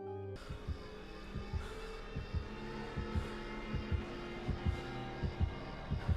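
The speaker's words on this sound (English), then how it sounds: "The other is the killer's terror radius, a heartbeat that gets faster and louder the closer the killer is." A video game's killer terror-radius heartbeat pulses in steady, evenly spaced low thumps over a faint hum, repeating about a dozen times.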